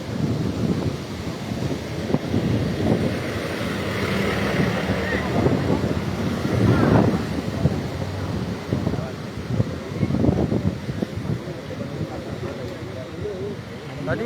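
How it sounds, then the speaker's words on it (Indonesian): Strong wind with light rain buffets the microphone in a steady, heavy roar with low rumbling gusts, while a voice talks over it throughout. "Angin pun cukup kencang"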